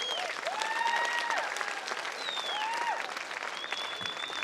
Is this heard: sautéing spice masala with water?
no